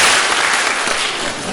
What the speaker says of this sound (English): can you have the discipline to clap all in unison in one sound?